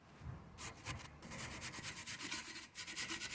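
Brake calipers on a 2019 Mitsubishi Outlander Sport get scrubbed clean, a quiet, close rhythmic rubbing and brushing in repeated strokes with no voices.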